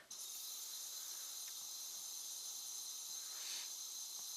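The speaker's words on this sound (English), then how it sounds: "So first thing I'm going to do is I'm going to blow what's in here out." An Iwata Revolution CR airbrush blowing cleaner out of its passages gives a steady, faint high hiss of compressed air that runs unbroken throughout, with a slight rise in tone near the end.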